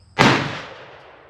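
A single loud revolver shot firing a .38 Special round, a sharp close blast followed by a fading echo tail.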